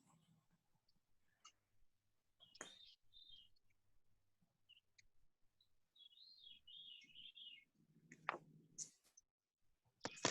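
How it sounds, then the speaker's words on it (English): A thrush sings outdoors in bright, warbling phrases against a quiet backdrop, with a few clicks and soft knocks between the calls. "I hear a thrush."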